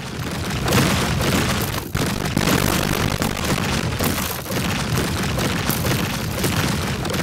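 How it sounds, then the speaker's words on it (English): TNT detonates in the video game Minecraft Legends, producing a loud, dense, continuous roar of overlapping booms and crackling debris with one brief dip partway through. "I love watching TNT go kaboom!"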